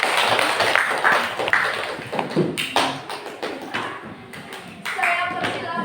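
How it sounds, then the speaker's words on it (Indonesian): A classroom debate audience claps after being asked to, scattered hand claps and taps of uneven rhythm at moderate distance, with voices talking over parts of it. "marilah kita tepuk tangan yang meriah"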